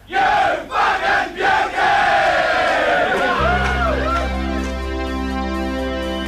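A large cricket crowd in Australia roars and chants at the 1980s Ashes presentation to Allan Border, loud and dense for about three seconds before music takes over.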